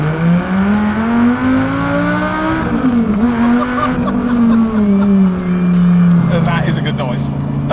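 A sports car engine revs and accelerates on back roads, its rising and falling drone loud and continuous throughout, with voices talking over it.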